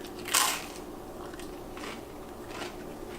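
Toast being bitten and chewed close up, a sharp crunchy bite followed by a few softer crunches spaced out in a quiet room.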